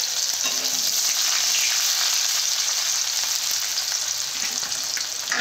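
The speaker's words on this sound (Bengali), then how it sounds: "পেঁয়াজগুলো ভালো করে ভেজে নেব।" Onions frying in a pan for a rohu fish and peas curry, with a loud, continuous hiss and crackle that stays even throughout.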